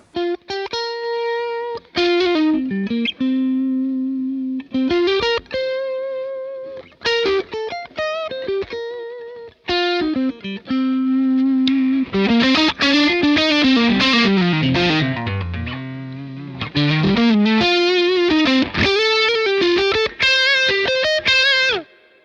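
Electric guitar through an Ibanez SD9 distortion drive model in a Line 6 Helix plays loud, sustained overdriven riffs and chords with short pauses between phrases, alone with no voices.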